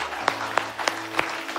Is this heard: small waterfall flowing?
no